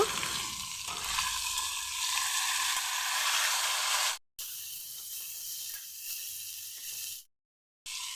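Loud, continuous sizzle of cauliflower and potatoes frying with turmeric and salt in a hot pan, close by, with brief cuts to silence and a quieter stretch in between.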